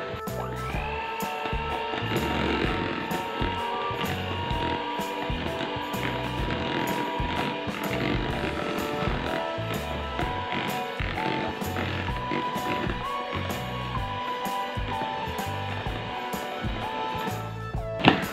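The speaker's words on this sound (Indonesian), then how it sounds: "sekarang mixer sampai tercampur rata" An electric hand mixer beating cake batter with vanilla flavouring and coconut milk for black glutinous rice putu ayu, a continuous loud whirring drone with rhythmic rattling pulses as the beaters knock the bowl, steady for the whole stretch.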